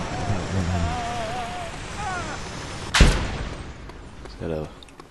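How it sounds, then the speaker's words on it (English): Propane tank shot and exploding in the video game Just Cause 2: one sharp blast over steady rain-like ambience, with voices talking before and after. "Attach him to a propane tank. That's always fun to watch. And then shoot it."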